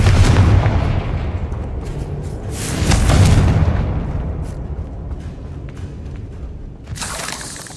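A Confringo spell blast in the video game Hogwarts Legacy booms loudly with a heavy, rolling rumble that swells and fades, and a second sharp burst follows near the end.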